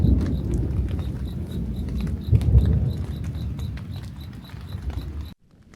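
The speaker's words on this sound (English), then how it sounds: "It's raining pretty good." Rain during a thunderstorm while camping, a steady close patter on the tent with a low rumble swelling midway before cutting off.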